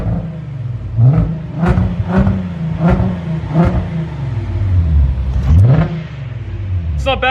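A Toyota MR2 with a swapped-in V6 and freshly installed exhaust revs in a series of about six sharp throttle blips. Each rise ends in a falling burble, loud and close, with a slower swelling rev near the end.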